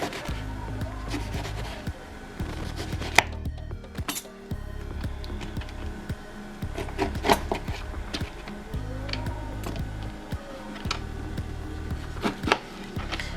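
A knife cuts a lemon into slices on a board, with scattered sharp taps and clinks spread across the stretch over a low steady hum, close and fairly faint.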